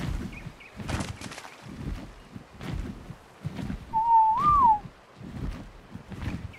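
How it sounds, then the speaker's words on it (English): A single rising-and-falling whistled tune from a player calling a tamed creature in the video game ARK: Survival Evolved, clear and moderately loud over background footsteps and ambient game noise. "I thought I whistled for him and he comes back."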